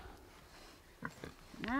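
Pigs on an off-grid homestead give a few faint, short grunts and snuffles close by, followed by a person's voice.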